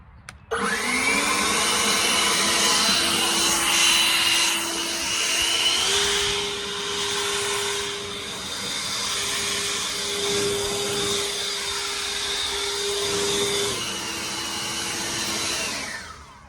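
An Ego leaf blower runs continuously at close range, a loud steady whine and rushing air that wavers slightly in pitch as it is swept around, with no talking.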